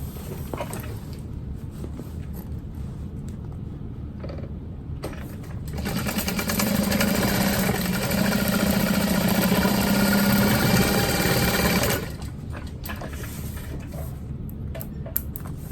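A sewing machine stitches the lining seam of a bucket bag, its motor whirring in a steady, loud run of about six seconds between quieter handling sounds.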